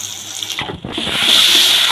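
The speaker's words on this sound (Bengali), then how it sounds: "এই প্লেটটা ধুয়ে একটুখানি জল দিয়ে দিলাম" Tap water runs and splashes over a plate being washed in a kitchen sink, a close, steady rush that grows fuller toward the end.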